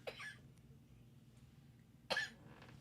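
A child coughs twice, sharp and close, the bursts about two seconds apart in an otherwise quiet room.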